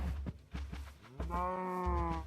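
Minecraft cows mooing inside a newly built pen, a few short low calls followed by a longer, steady harmonic moo, with game background sound and no talk.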